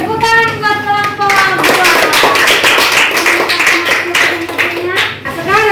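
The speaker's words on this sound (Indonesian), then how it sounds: "tepuk tangan buat kelompok" A classroom of children claps for a group of presenters, with brisk uneven hand claps over a background of young voices and a few sung or sustained tones at the start.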